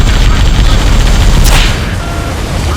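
Heavy gunfire in a combat video game rakes a vehicle under attack, a loud, dense, continuous barrage of rapid shots and booms, with a brief sharp crack partway through.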